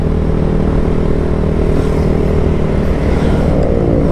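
A Keeway CR152 150cc scrambler motorcycle engine drones steadily and loudly while riding, a continuous close rumble with wind noise and no pauses or talk.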